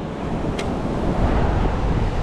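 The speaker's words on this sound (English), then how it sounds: "Oh, these waves are getting massive." Heavy ocean surf off an uninhabited island, a steady loud roar of breaking waves mixed with wind buffeting a head-mounted action camera.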